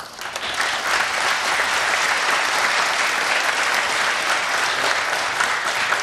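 Audience applause at a folklore ensemble's New Year concert, a dense, sustained clapping from a large crowd that swells in at the start and stays loud and even to the end.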